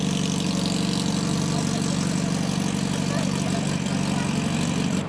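A classic car at the Tour Auto 2003 road rally idles steadily with a low, even rumble that holds level for the whole stretch, close and fairly loud, with faint voices in the background.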